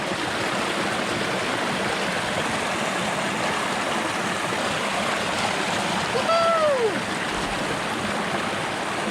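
A river stream in the Guam jungle rushes steadily as a constant broadband wash of flowing water, with a brief high chirp partway through.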